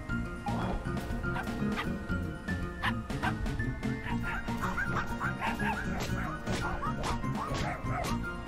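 A dog companion in a video game barks repeatedly in quick, sharp bursts over a dense, steady layer of game sound and music.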